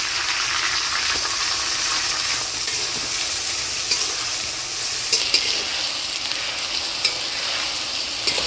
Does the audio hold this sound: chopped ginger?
yes